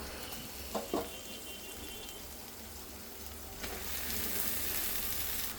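Chopped gongura leaves go into a pan of cooking pulp. A faint, continuous sizzle and bubbling holds throughout, with a couple of soft bumps early on and a brighter hiss rising near the end.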